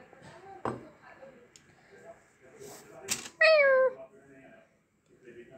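A house cat meows a few times, one long rising-falling meow standing out loud and close, with quieter household sounds and occasional speech around it.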